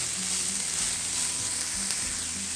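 Chicken filling for sandwiches fries in a pan with a loud, steady, close sizzle and a few soft thumps of stirring; no voices.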